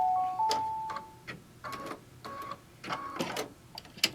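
An embroidery sewing machine stitches across fabric in a mug wrap hoop, giving a series of irregular mechanical whirring and clicking bursts with short tonal beeps near the start, close and fairly quiet, with no talking.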